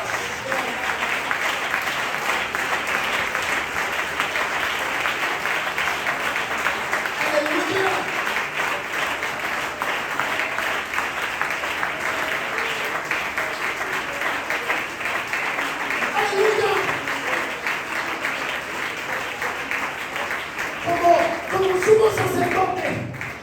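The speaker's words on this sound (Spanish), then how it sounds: "Un aplauso a este Dios." Sustained congregational applause fills a church during a sermon, a steady broad wash of many hands clapping that continues for over twenty seconds, with some voices and a brief louder swell near the end.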